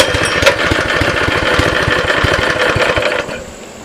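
A small Baja Warrior minibike engine runs close by, putting out a fast, rough chugging rhythm that then drops away sharply toward the end as it cuts out or idles down.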